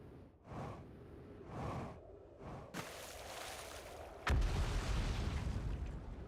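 Something exploding in the video game Outer Wilds: rumbling bursts build and swell, then a sudden heavy boom breaks in and leaves a loud, sustained roar.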